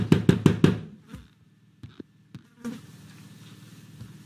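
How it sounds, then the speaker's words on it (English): Flies buzzing around a dead body in a Roblox game, a steady insect drone heard behind a few sharp knocks after some louder thumps at the start. "Why are there bees? Oh, there's a dead body back here. It's flies."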